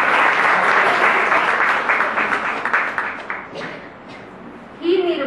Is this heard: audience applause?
yes